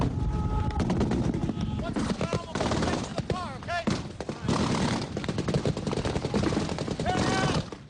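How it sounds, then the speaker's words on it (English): Rebel fighters and return fire trade shots in a heavy gunfire exchange, with loud, dense automatic bursts and scattered shots running almost nonstop, a voice briefly heard amid the shooting. "Then there was some big return fire."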